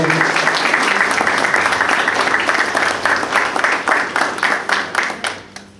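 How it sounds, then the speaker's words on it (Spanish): Steady applause from a crowd, dense and sustained, gradually thinning into scattered claps and fading out near the end. "Renovamos el aplauso."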